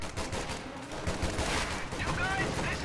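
Rifle squad gunfire in a strategy war game crackles in dense, overlapping volleys, sharp repeated shots merging into a sustained fusillade with faint talk underneath.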